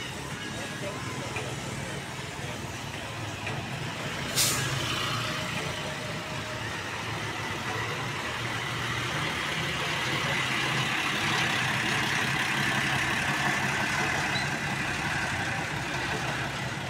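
A red Agramas Jakarta–Malang intercity bus idles at a terminal in a steady low diesel rumble, amid ambient station noise, one brief sharp click and people talking nearby.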